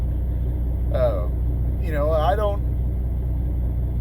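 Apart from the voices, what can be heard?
truck engine rumbling, heard from inside the cab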